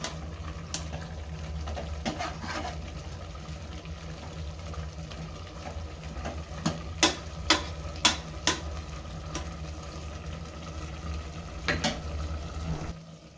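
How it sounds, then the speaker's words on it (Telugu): A pot of brinjal, leafy greens and tomato curry bubbles softly in the background while a spoon scrapes and taps the pot in a cluster of sharp clicks, then a few more knocks later. "చూడండి ఉడుకుతా ఉంది కదా, మధ్య మధ్యలో ఇలా కలుపుకుంటూ ఉండాలి"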